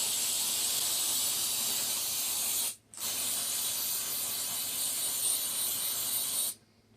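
Coconut cooking spray hisses in two long continuous bursts onto onions spread on a bag, loud and close, with a brief pause between them and no talking.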